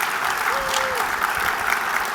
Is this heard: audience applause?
yes